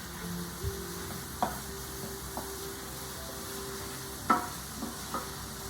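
Fried rice frying in a pan gives a soft, steady sizzle, broken by a few distinct knocks and scrapes of a utensil stirring it, with no voices.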